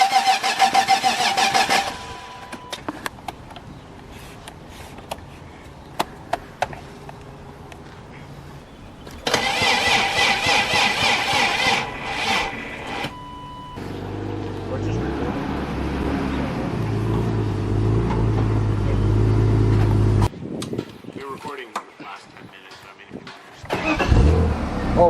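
A BMW M50B25 inline-six cranks, catches and starts, then settles into a loud, rough idle and runs steadily for several seconds before quieting, with scattered clanks and brief voices around it.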